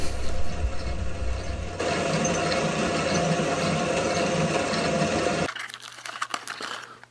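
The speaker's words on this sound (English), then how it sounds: "So I hooked it to a hand crank wonder mill" Grizzly wood lathe with variable speed drive turning a hand-crank Wonder Mill grain mill, giving a steady loud mechanical whir and grind with rapid rattling for several seconds before easing to a quieter, irregular clatter near the end.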